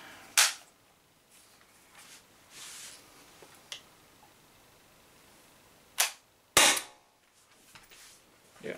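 Umarex HDR68 CO2 air pistol firing Z Ram slugs, a few sharp isolated cracks spaced seconds apart, close and abrupt against a quiet background, likely with the CO2 running low.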